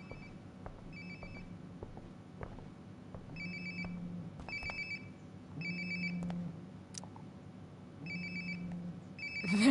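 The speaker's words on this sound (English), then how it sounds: "Sounds like my phone is definitely nearby." A phone rings repeatedly in the video game Life is Strange: Before the Storm Remastered, its short electronic chirps returning in regular bursts over a low steady background hum.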